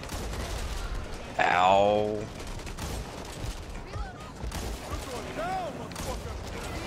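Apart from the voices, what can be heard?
gunfire in the video game Back 4 Blood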